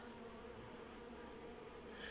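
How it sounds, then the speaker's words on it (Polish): A steady, dense buzzing of a honeybee swarm being settled into a hive, humming continuously at a low, even level with no voices. "No ładna rójka pszczoły trochę spadło tu"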